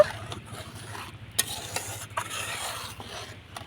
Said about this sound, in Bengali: ভালো করে আমি নাড়াচাড়া করে দুধটা মিশিয়ে নিব